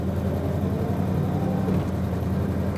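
A 1965 Ford Ranchero with a small-block V8 accelerates under load, giving a steady, loud, continuous engine drone with a low throbbing rumble that holds even throughout.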